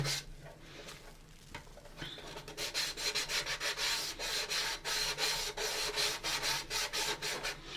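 Sandpaper rubs against a plastic U.S.S. Enterprise model kit from AMT in quick, steady back-and-forth strokes, close and fairly loud, after a few scattered scrapes, with no voices.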